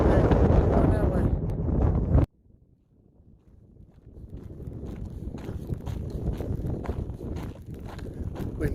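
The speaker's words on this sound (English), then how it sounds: "Gotta let the wind die down a little bit" Wind blowing on a mountain trail, strong gusting roar buffeting the microphone, dropping suddenly to near quiet and then building back to a steady rush.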